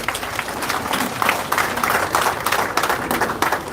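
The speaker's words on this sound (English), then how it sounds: "let's put together a big applause for the President" An audience at a public event in Uganda applauds for the President, with moderate, textured clapping from a crowd that continues steadily throughout.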